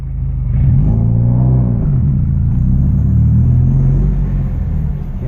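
A manual car with an Exedy Stage 4 twin-disc clutch reversing as the clutch engages, heard as a steady, close engine rumble with slight rises in pitch and no talking.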